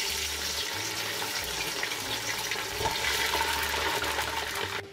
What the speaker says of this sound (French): vous entendez la viande qui est en train de cuire